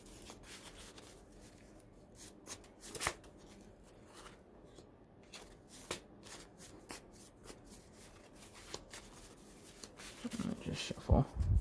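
A deck of trading cards is shuffled by hand close up, giving soft riffling and rubbing with sharper snaps and flicks, which grow busier and louder toward the end.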